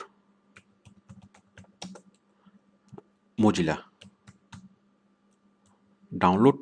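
A computer keyboard clicks through a web search in short irregular bursts of keystrokes, with brief stretches of speech breaking in between.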